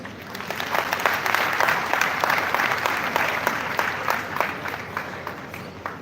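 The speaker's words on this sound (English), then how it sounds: "Another stronger hand clap to our manager for the wonderful work he has just done" An audience at an economic development event applauds, a steady, even stretch of many hands clapping at moderate distance with individual claps standing out from the wash.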